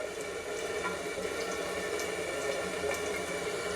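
A kitchen tap runs steadily while elderberries are rinsed, a constant rushing splash of water with no break and no voices.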